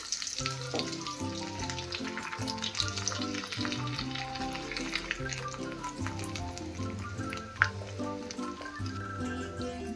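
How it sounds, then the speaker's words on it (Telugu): Steady sizzling of dried red chilies, cumin, mustard seeds and garlic frying in hot oil, continuous throughout with faint background music and no voices. "ఆయిల్ వేడెక్కిన తర్వాత ఎండుమిరపకాయలు జీలకర్ర ఆవాలు గింజలు వేసుకోవాలి"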